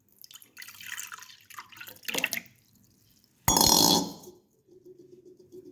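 Tamarind-soaked water pours into a drinking glass in a few short, gurgling splashes, followed by one louder, brief rushing pour.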